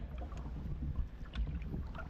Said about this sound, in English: I'm just paddling on one side.